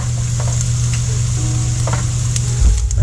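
Vegetables sauté in a pan with a steady, close, loud sizzle and light crackle, stirred now and then, and a brief louder surge near the end.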